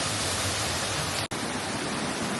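Cunca Pilas Waterfall near Labuan Bajo, Indonesia: loud, dense rushing water roaring without pause apart from a split-second dropout midway, with no voices.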